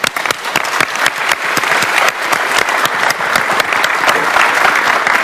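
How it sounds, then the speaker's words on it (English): Conference audience applauding panelists after presentations at a nuclear small modular reactor meeting, a dense steady clapping from a large crowd that stays loud and even throughout. "And now, maybe we can give them a round of applause."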